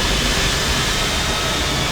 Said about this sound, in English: This is the engine being started up